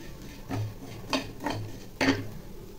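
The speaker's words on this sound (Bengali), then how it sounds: "মেয়ের জন্য একটু চিড়া ভেজে দিচ্ছি।" Metal utensil scraping and tapping in a pan while flattened rice is fried for a child, with four distinct scrapes spaced about half a second apart over faint background hiss and no talk.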